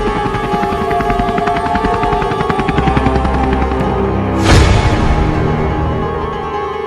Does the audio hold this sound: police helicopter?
yes